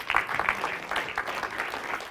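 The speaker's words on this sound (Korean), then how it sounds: "이 그림이 이쁘면 또 박수 한번 쳐봐요" A lecture audience claps together for a picture on screen, a dense, steady wash of applause from many hands that carries on without pause, fairly close and lively in the hall.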